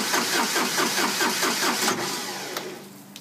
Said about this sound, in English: this thing's a bear to start up in the cold